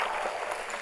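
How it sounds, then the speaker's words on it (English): A brief round of applause, a steady wash of many hands clapping, fairly faint and heard alone with no voices. "That clap of that round of applause is excellent."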